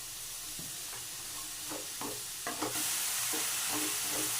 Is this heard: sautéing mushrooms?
yes